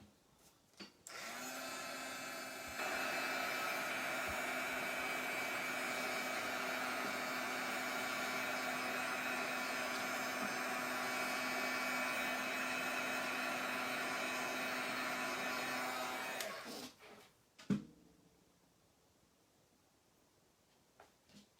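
A heat tool blows steadily for about fifteen seconds to dry freshly stamped ink, a broad, even whoosh that steps up in strength partway through, then cuts off, leaving brief rustling handling sounds.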